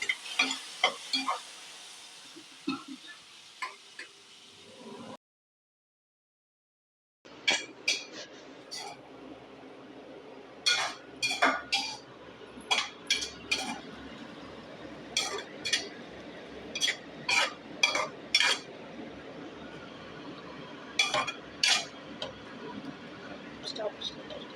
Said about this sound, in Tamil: இந்த தக்காளியோட பச்சை ஸ்மெல் போகணும். அது வரைக்கும் உங்களுக்கு வதக்கி விட்டுட்டே இருக்கலாம்.